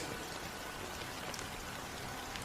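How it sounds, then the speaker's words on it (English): Steady rain falls in the video game Honkai Star Rail, a dense, even hiss of drops pattering on surfaces that holds constant throughout, moderately loud with no voices. "it's still raining."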